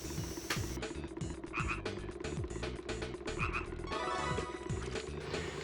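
Frogs croaking in the Simple 2000 video game, with repeated short rhythmic croaks over a looping game backdrop, up close and loud, with no speech.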